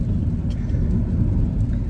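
A car rolls along on a rainy early morning, heard from inside as a steady, close, low road-and-engine rumble with no voices.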